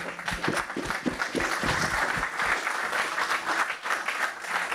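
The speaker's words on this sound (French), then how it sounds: "Une petite main d'applaudissement." Audience applause at a 40th anniversary celebration honouring a retiring television station director, dense steady clapping sustained throughout at close range with no voices over it.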